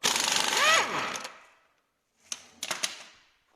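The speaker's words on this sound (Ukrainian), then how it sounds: "Зриваються болти з внутрішнього шруза." On a VW T4, bolts on the inner CV joint are broken loose: a loud burst of metallic ratcheting and grinding, then silence, followed by several sharp clanks and knocks.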